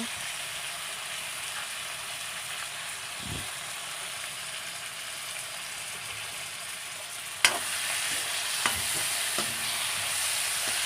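Onion, ginger and garlic pastes frying for potato chicken curry, with a steady close hiss of sizzling oil under slow stirring, then a sharp pan knock and a few scraping clatters.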